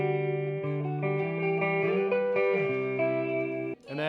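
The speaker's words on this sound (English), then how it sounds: "I start out playing something clean, so no distortion, no gain" A clean Tom Anderson electric guitar with no distortion or gain plays a short melodic phrase of clear, ringing notes and chords, fairly loud and close, ending abruptly.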